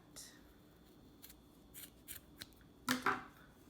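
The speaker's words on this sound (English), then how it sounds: "Then take your scissors" Scissors snip through paper in a quiet craft session for St. Patrick's Day, a few soft scattered cuts then two louder close crisp snips near the end, with faint speech under them.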